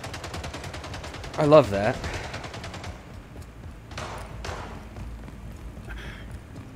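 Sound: pistol gunshots in video game Left 4 Dead 2

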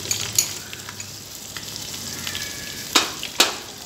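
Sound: ginger garlic paste frying for chicken pulao

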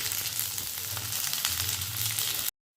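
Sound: food frying in a pan

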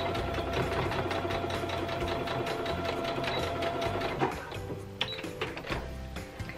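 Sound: sewing machine stitching fabric

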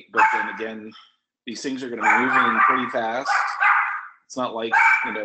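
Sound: dog barking

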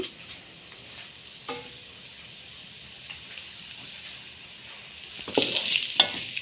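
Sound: onions sautéing in a pan for chicken kottu roti

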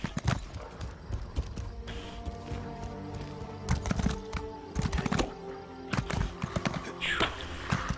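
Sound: horse hooves in the video game Elder Scrolls Online

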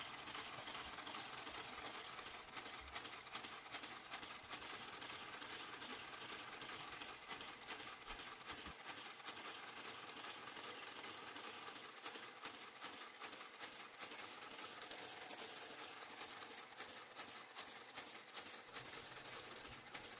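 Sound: knitting machine garter carriage knitting rows

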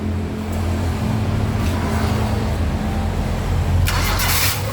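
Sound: car engine starting, hard to start when hot

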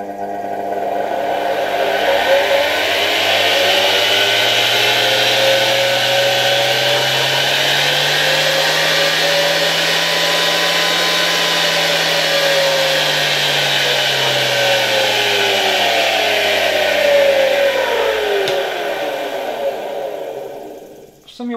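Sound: Alfa K2 vacuum cleaner SK-5a-1 electric motor running

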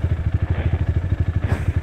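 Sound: off-road motorcycle

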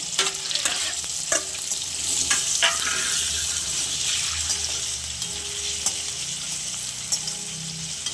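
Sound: paneer frying in oil

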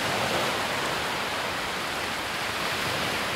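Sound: sea waves breaking on a beach

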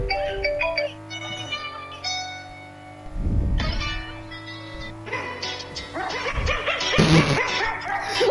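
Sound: Song performed by barking dogs

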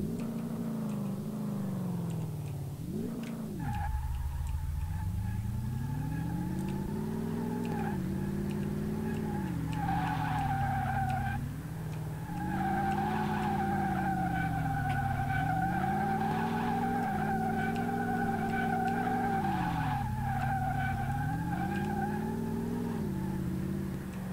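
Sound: Ford GT40 car driving in Car Mechanic Simulator 2018 video game

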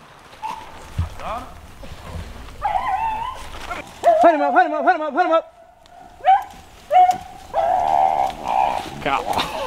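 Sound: rabbit hunting dog baying in swamp

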